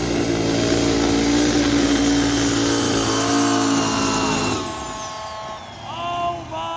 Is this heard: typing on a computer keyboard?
no